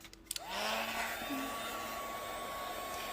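Heat gun blowing steadily onto wax coating a gouache painting on canvas, a continuous loud whoosh that starts after a brief click and holds evenly throughout, with no talk.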